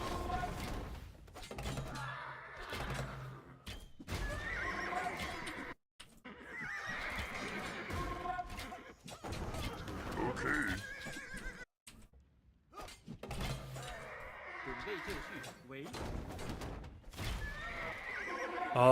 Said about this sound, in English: he shot at the horse